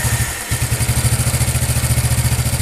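A freshly repaired small engine catches after a brief stumble and settles into a loud, close, steady rapid putter with clattering mechanical noise.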